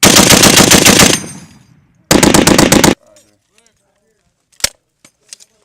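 A powerful US military automatic weapon fires two loud, close bursts of rapid gunfire separated by a short pause, followed by faint clinks and a few sharp clicks and knocks.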